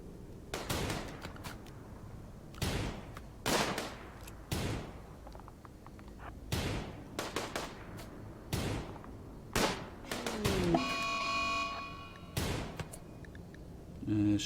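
Repeated gunfire against zombies in the video game RimWorld, loud sharp shots at irregular intervals with brief pauses, followed by a rising clatter of further game effects near the end.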